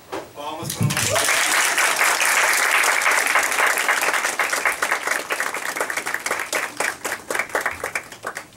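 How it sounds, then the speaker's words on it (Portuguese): An audience applauds after a stage performance of a La Fontaine fable, a loud, dense burst of clapping that thins into scattered, uneven claps toward the end, with voices mixed in. "Palmas para nós."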